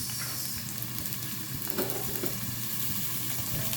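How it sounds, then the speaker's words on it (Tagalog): Squid balls frying in a pan, a close, continuous sizzle with light crackle throughout and no voices. "pritohon sa nato ang ating squid balls"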